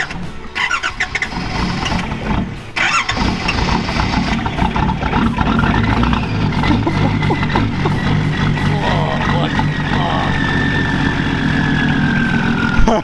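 A Toyota LandCruiser diesel engine cranks hard and laboriously before catching, then keeps running with a loud, close, steady rumble.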